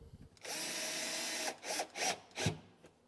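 A power drill drives a number 6 by 3/4 screw into a wooden drawer slide: one long steady whir, then three short bursts as the screw seats, close and clear with no speech.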